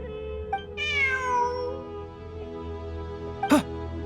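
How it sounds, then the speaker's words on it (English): A video game cat meows in Genshin Impact, a clear rising-and-falling cry near the start over steady background music, followed later by a short sharp sound. "Look! A cat!"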